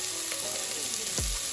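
Finely chopped yellow onion hits hot olive oil in a pan, a loud, steady hiss of sizzling frying close up, with a brief stir partway through.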